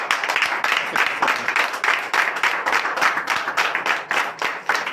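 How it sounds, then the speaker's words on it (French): Church congregation at a Sunday service applauding and cheering in acclamation, steady dense clapping throughout, loud and close with no pauses. "Veuillez donner de vives acclamations."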